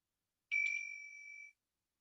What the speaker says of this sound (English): Sound of the bells.